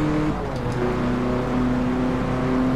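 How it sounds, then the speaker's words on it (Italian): Alfa Romeo Giulia engine in Forza Motorsport 7 holding a loud, steady drone with sustained tonal hum and slight pitch shifts, continuous throughout with no talking. "motore Alfa"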